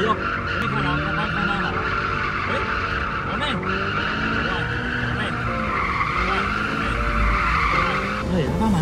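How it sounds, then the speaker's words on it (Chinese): During a loss-of-control driving training demo, a car spins several times with its tires squealing in long sweeping, rising and falling wails over engine roar, loud and near, while someone talks over it. "他马上瞬间转了好几圈"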